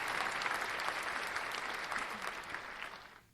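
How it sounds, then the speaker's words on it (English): A studio audience claps steadily in a dense, even round of applause that fades out toward the end, with no talk over it. "How about some applause for you?"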